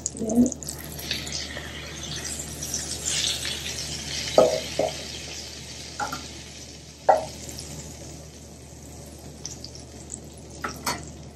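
Salmon fillet skin-side down searing in a pan, with a steady soft sizzle and a few sharper pops and spatula scrapes, while a voice talks over it.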